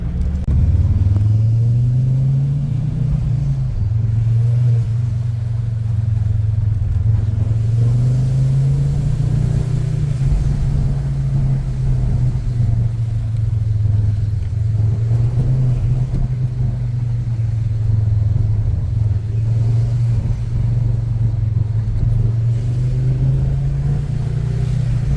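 A car engine drones steadily from inside the cabin during a short drive, a loud low rumble whose pitch rises and falls gently with gear changes and throttle, continuous with no talking.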